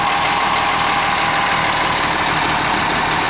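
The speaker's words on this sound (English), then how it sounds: "A little diesel engine like that." The Cummins diesel engine of a Van Hool C2045L 53-passenger coach idles steadily and loudly up close, a continuous low rumble with a rattling, chugging texture and no voices.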